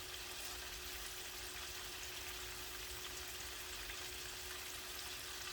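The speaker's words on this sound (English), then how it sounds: "It'll be okay if they fry a little more." Chicken wings frying in oil for crispy fried chicken, a steady, faint, close sizzle that keeps on evenly with no voices.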